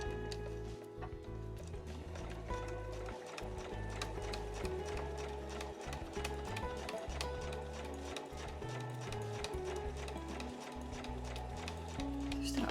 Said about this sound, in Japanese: それでは針を右側にして際を縫います。